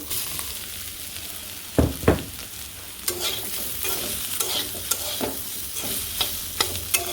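Bitter gourd, eggplant and potato stir-fry in a pan with a low background sizzle, broken by two loud knocks early on, then a run of rhythmic scraping strokes of a spatula, near and without talk.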